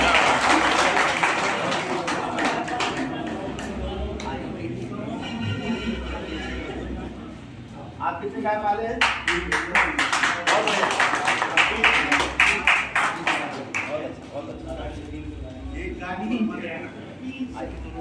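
At a seminar on cow-based natural farming, a man questions a farmer while an audience breaks into bursts of clapping that come and go between stretches of talk.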